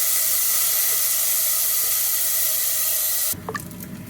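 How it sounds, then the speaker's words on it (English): Bacon sizzles in a pan over medium heat to render its fat, a loud steady broadband hiss that drops abruptly near the end to a quieter crackle. "over medium heat, we're going to put in the bacon"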